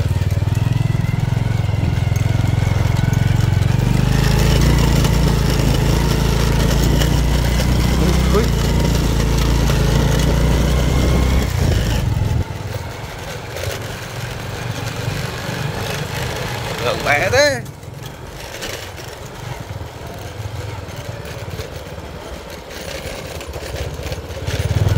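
Motorbike engine running while riding slowly along a forest route, a loud steady low drone for about half the clip that then drops off to a quieter idle, with someone talking over it.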